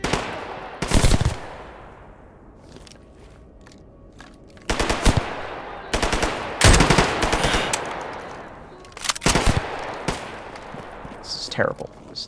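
Bursts of automatic gunfire from the video game Stalker GAMMA crack out in several loud volleys separated by quieter gaps, with a voice talking over the fighting.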